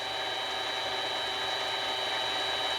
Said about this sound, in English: now that I got it in there, spin up the lathe